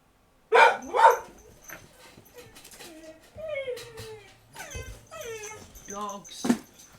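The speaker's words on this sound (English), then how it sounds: "Dogs." Dogs bark and whimper indoors, with loud sharp barks at the start followed by a run of high, wavering whines and yips, with a voice speaking briefly among them.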